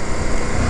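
A 2023 CFMOTO Ibex 800 adventure motorcycle engine roars loud and close under throttle, a dense, continuous high-revving drone with no pauses during a brief burst.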